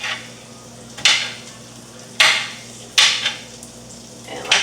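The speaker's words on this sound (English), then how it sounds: "while I go to saute these onions and garlic first" Onions and garlic sautéing in butter in a pan, a soft steady sizzle broken by sharp metal clacks of a utensil against the pan at irregular intervals, close and fairly loud.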